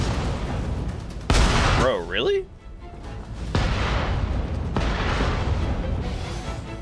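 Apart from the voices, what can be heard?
cannon fire from multiple cannons in Nioh 3 video game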